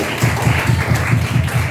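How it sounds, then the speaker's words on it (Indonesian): A room of seated participants claps together in a steady, rhythmic beat, loud and close, roughly four claps per second with no talking over it. "tepuk tangan untuk kita semua"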